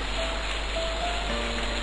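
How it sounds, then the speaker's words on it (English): Heavy rain downpour sound effect: a dense, constant hiss of falling rain with no break, loud and steady across the short stretch, no voices. "the heavy rain downpour sound"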